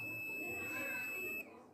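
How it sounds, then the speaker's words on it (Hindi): A multimeter on continuity test gives a steady, close electronic beep while its probes touch a SIM card track on a Samsung E1200Y phone board. The beep holds for about a second and a half, then cuts off. "इस पे बीप आ रहा है"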